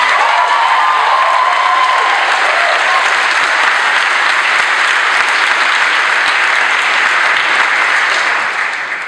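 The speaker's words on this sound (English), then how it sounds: "Could we please take a moment to give another round of applause for all the first gens in our community who are graduating from college?" Sustained, loud applause from a large crowd at a Black graduation ceremony, dense steady clapping throughout that begins to fade only in the final moment.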